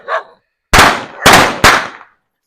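Diwali firecrackers go off outdoors in three sharp, loud bursts in quick succession, each with a short crackling decay, after a brief faint sound.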